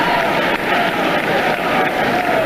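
A wrestling crowd roars and applauds for a wrestler, a dense wash of cheering and clapping that stays loud and steady with a brief dip partway through.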